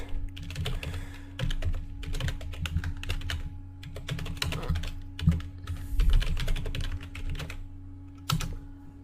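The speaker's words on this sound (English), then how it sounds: "I will just type here the actual link." Keys on a computer keyboard clatter in bursts of fast typing with short pauses between runs, close and clear, with a faint steady hum underneath and no speech.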